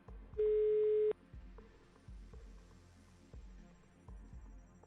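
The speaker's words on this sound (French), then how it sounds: "Ça sonne. Ça sonne, ouais. C'est la 3e sonnerie, bien entendu." A single long electronic tone sounds once, followed by a steady, repeating low pulsing beat, like a phone line ringing with a rhythmic throb.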